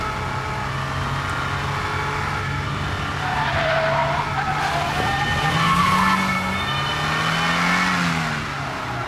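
A grey Mercedes 380 speeds away with tires skidding and squealing, engine roaring loudly and steadily throughout, rising in pitch as it accelerates.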